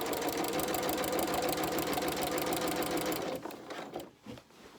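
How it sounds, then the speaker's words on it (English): A sewing machine stitching down a fabric cushion cover for outdoor seating runs fast and steady up close for about three seconds, then slows and stops with a few fabric handling sounds. "So now I'm just going to sew down."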